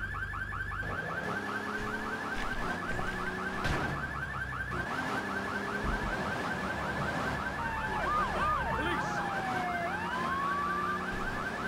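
A police siren in the video game GTA 3 Definitive Edition wails continuously with a rapid warbling yelp, steady and prominent over game ambience and vehicle noise, without speech.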